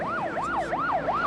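An ambulance siren on a beach, a clear wailing sweep rising and falling four times in quick succession, fairly distant.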